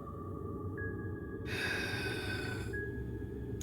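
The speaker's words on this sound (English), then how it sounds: "You hear heavy breathing." Heavy breathing in Fear & Hunger 2: Termina, slow, rough breaths over a low droning background and faint tonal hums, with no talking.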